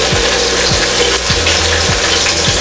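Paneer steak roasting in a pan over a medium flame, giving a steady, close sizzle throughout, with faint low thumps recurring at roughly half-second intervals and no talking.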